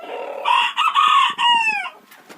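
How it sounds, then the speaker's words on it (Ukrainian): A rooster in a backyard poultry yard crows once, a loud, close, drawn-out cock-a-doodle-doo with a rising start and a falling, wavering end, heard alone. "Ой, та й гарний півничок ти мій. Так співаєш гарно."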